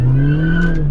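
An R53 Mini Cooper S engine holds a loud, steady rev close by, its tone drifting only slightly over one continuous second with no voices.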